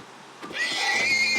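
Horse neighing in the video game Minecraft, a single drawn-out whinny rising after a brief soft onset and holding steady, fairly loud and close with no talking.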